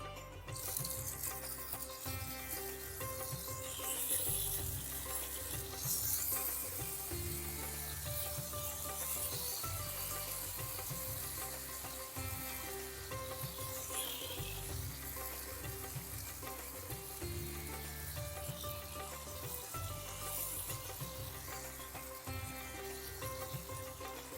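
Pieces of rawas fish sizzle steadily as they fry in masala in a pan for a Konkani ravas kalvan, a continuous close frying hiss beneath prominent background music.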